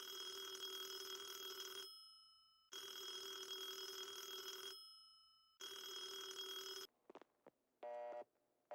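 A telephone rings on a Murray Hill line in three long, evenly spaced bell bursts, followed by brief clicks and a short electronic tone pattern on the line.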